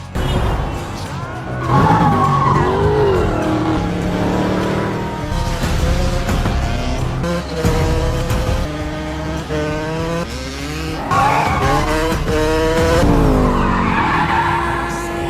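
A car engine revs hard and tires screech through the skid as it chases a motorcycle in a film scene, with a second squeal near the end; loud and continuous, like a close-up chase.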